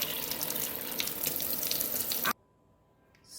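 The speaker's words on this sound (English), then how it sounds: "So we're just going to pour some water." Water poured into a small measuring cup, a steady splashing trickle running for a couple of seconds before stopping abruptly, followed by near silence.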